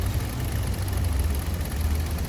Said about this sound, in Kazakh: Двигатель работает как часы. Видите сами.